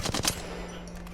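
A short burst of Flatline rifle fire in the video game Apex Legends, several rapid close shots in quick succession followed by a fading ring and steady background hum.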